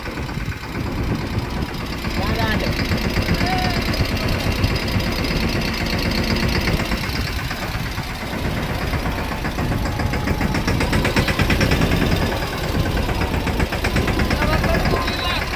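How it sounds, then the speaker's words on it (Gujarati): A tractor engine drives slowly, a steady throbbing mid-pitched chug with rapid knocking pulses running continuously and fairly loud throughout, some voices faintly under it. "તો ટ્રેક્ટર જાય છે ધીમે ધીમે."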